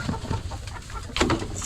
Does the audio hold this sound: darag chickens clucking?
yes